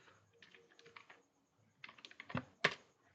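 Typing on a computer keyboard while entering Python code, quiet clusters of key clicks separated by a pause, ending with a couple of sharper louder strikes, with no talk.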